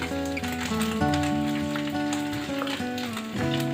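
Meat frying in a pan for homemade shawarma gives a steady, close sizzle running through the whole stretch, partly covered by a melodic music track playing over it.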